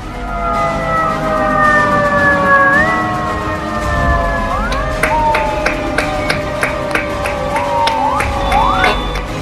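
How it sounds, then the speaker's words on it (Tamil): Fire engines lined up in a row sound their sirens together, wailing tones rising and falling loudly, with crowd noise and rhythmic clapping joining in. "தீயணைப்பு வாகனங்களை வரிசையாக நிறுத்தி சைரனை ஒலிக்கவிட்டும் கைகளை தட்டியும் தீயணைப்பு படையினர் தங்களது ஆதரவை தெரிவித்தனர்"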